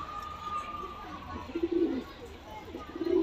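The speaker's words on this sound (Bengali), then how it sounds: "এটা আমার নিজের কালেকশন করা পায়রা" Pigeon from a Kolkata breeder's collection cooing in short low bursts, two soft phrases near the middle and end, over a steady background hum.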